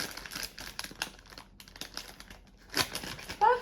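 A small plastic mailing pouch is handled and opened up close, giving scattered soft crinkles and rustles with brief crackly bursts toward the end, fairly quiet throughout.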